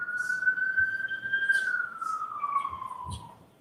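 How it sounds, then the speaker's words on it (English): A police siren passes outside a courtroom, one long steady wail that sweeps slowly downward as it moves off, fairly faint and alone with no talk over it. "I just wanted the siren to go by."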